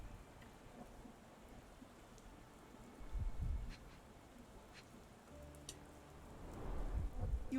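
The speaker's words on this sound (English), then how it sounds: "Okay, it's raining." Steady rain in a video game with low rumbles of thunder rising twice, no voices, moderately quiet throughout.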